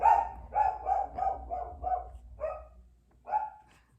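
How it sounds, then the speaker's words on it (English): A dog barks in a steady run of about eight clear, moderately distant yaps, pausing briefly before a final bark, with no talking. "They're barking."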